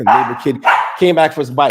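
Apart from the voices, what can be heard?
dog barking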